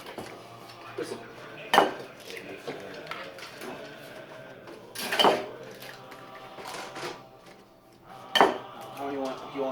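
Knife and cutlery clinking against dishes while French toast is prepared, three sharp distinct clinks spaced a few seconds apart over quiet kitchen background.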